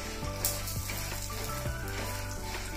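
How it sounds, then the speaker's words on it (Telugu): Peanuts and about twenty dried red chillies dry-roasting together in a pan, giving a dense, continuous close sizzle and crackle with a few soft stirring knocks, fairly loud and steady throughout with no voice. "వీటన్నిటిని కలిపి దోరగా వేయించుకుందాం."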